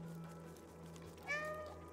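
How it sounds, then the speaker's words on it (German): A cat in the video game Stray gives one short, clear meow near the end, close and distinct over a quiet steady hum. "Ja, miauen können wir auch."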